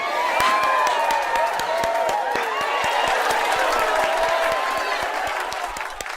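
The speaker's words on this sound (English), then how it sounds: "Keep the applause going." Audience applause and cheering at a political speech event, a dense steady roar of clapping and crowd noise with scattered whoops sustained throughout, fading slightly at the end.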